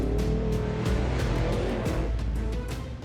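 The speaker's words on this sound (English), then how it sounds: "Off he goes, and I know he can rail that truck." An off-road race truck pulls away, its engine growling loudly up close with rising and falling revs, gear-change dips and rhythmic rattling bursts across a rough mechanical roar.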